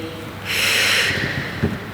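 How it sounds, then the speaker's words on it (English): A sharp breath is drawn in through the nose during a Pilates fitness ball workout, a single audible snort-like inhale heard close up, followed by a faint exhale. "Breathing."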